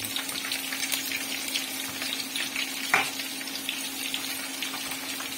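Chopped onions hit hot oil in a pan while chicken tinola is prepared, giving a steady close sizzle with a soft stir or clink near the middle, no voices over it.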